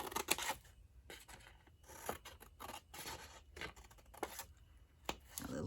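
Scissors snipping off a strip of card stock while a Christmas gift box is being made, a string of short, crisp cuts and rasps close by, with no talking.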